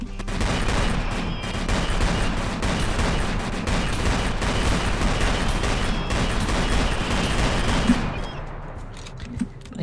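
Rapid-fire weapons in a skeleton war video game unleash a dense, continuous barrage of overlapping gunshots for about eight seconds, loud and close, then thin out toward the end.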